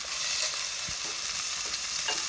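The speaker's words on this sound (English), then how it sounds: "my oil is hot, so I'm going to just place my beef right in the pot." Steady, loud sizzling of beef searing in hot oil in a pot, close by, with occasional stirring scrapes and pops throughout.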